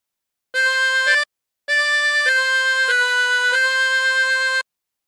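A 24-hole tremolo harmonica plays a phrase of Battle Hymn of the Republic, with a few short reedy notes, a brief pause, then several longer sustained notes that shift pitch in steps, played alone.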